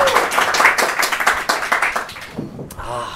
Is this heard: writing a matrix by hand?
no